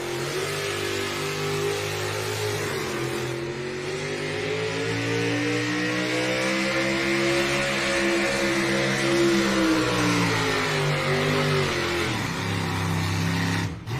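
The Torch and Twisted pulling truck at a Thunder in the Valley session in Rock Valley, Iowa, its engine roaring loud and close, revving and climbing in a sustained, heavy pull for over ten seconds with no speech.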